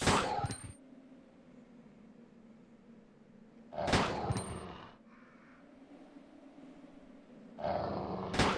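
Dogs growling and snarling in the Resident Evil 2 video game, a low steady rumble running throughout with three loud bursts of attack noise near the start, middle and end.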